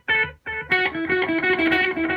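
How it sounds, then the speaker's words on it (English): Guitar played through the tape echo delay setting of a Mooer PE-100 pocket multi-effects pedal, a few picked notes then sustained chords with soft repeating echoes trailing behind, loud and close with no talking. "Then we've got tape echo."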